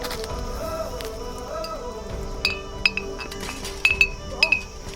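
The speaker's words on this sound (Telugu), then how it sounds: "ఇంకో మామూలుగా అయితే ఇట్లా కడతారు 2 గ్లాసులు. ఆ గాలి కూగినప్పుడు దే మేక్ సమ్ సౌండ్." Two glasses tied together on a mango farm clink in the wind, giving several light, bright chinks in small clusters over steady outdoor background noise, with faint voices nearby.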